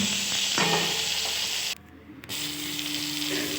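Rice frying in a pan with a small potato and a tomato, making a close, steady sizzle that drops away briefly partway through before resuming, with no talking.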